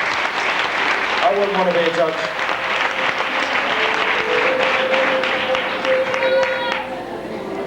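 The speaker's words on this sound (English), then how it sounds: "let's give them a nice round of applause" Audience at a youth centre princess pageant gives the judges a full round of applause, continuous and fairly loud throughout, while someone talks briefly over the clapping.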